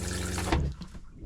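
Water runs from a faucet in a Class A RV being dewinterized to flush out pink antifreeze, a close, brief steady gush that cuts off partway through.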